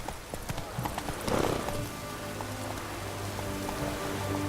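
Hooves of Roach, the horse in The Witcher 3, clip-clopping in a steady gallop on damp ground, close and continuous with a soft rain-like hiss underneath.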